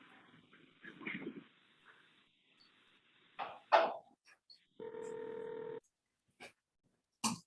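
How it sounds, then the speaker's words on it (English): Telephone keypad tones sound as 911 is dialed in a recorded call played in a murder trial courtroom, with short beeps and a sustained tone between a cough and faint sounds. "So I started dialing 911."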